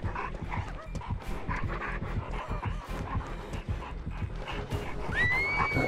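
The killer's dog in the video game Dead by Daylight pants and barks in quick, rough bursts amid scuffling game noise, fairly close, with a rising whine near the end.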